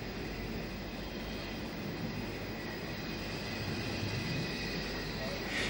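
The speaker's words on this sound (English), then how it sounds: "Here it shunts a wagon along the up main line." An Irish railway locomotive of the 1940s–50s shunting a wagon along the up main line, a steady continuous rumble of rolling stock with rail noise, fairly near and unbroken throughout.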